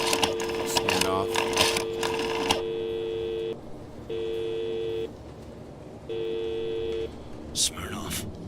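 A telephone in a video game gives its call signal: a steady electronic tone sounding in repeated on-off bursts of about a second, with louder game sounds and clatter at the start and end.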